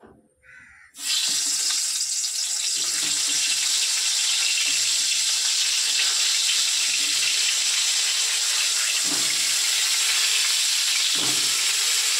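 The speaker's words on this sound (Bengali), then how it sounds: "তো চলো পটলগুলো তেলে দিয়ে আমি ভাতটা বসিয়ে দিই।" Pointed gourd (potol) sizzles in hot oil, a loud, steady broadband frying hiss that starts abruptly after a second and holds for the rest, with a few faint clinks under it.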